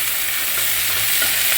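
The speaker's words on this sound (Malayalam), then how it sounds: "നമ്മൾ ഇളക്കി കൊടുത്തുകൊണ്ടിരിക്കണം. മീഡിയം ഫ്ലെയിമിൽ വെച്ച്" Chopped capsicum and okra stirred in a frying pan over a medium flame, a steady close hiss of sizzling oil with faint scraping of the spoon, no voices.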